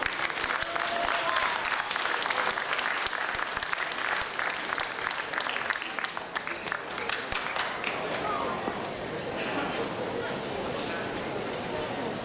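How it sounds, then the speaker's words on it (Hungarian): Sustained, dense audience applause for a folk dance group performing on stage with a live band, loud and steady before gradually thinning toward the end. "Fogadják őket nagy szeretettel és nagy tapssal."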